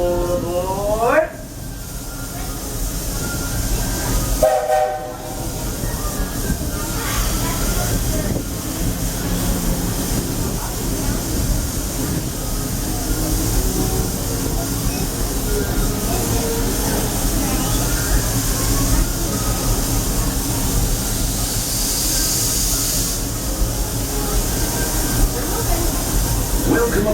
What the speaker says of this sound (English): Welcome aboard the Walt Disney World Railroad.